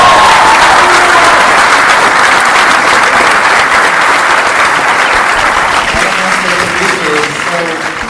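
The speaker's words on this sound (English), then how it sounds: "can we get a round of applause for Zach McGowan as Charles?" Convention panel audience applauding at New York Comic Con, a loud, dense, steady wash of clapping from a large crowd that thins slightly near the end.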